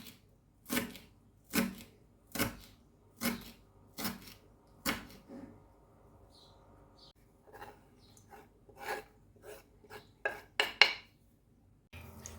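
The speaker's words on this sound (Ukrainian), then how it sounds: "Дрібненько наріжу кріпку." Sharp knife finely chops dill on a cutting board, first in slow evenly spaced strokes, then a brief pause and a quicker, irregular flurry of cuts.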